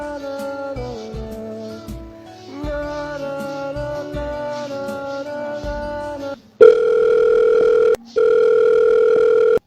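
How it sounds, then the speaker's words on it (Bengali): A telephone call being placed produces a loud, steady ringback tone that starts after several seconds of background music, breaks briefly once, then resumes, with no voices. "ফোন দিই।"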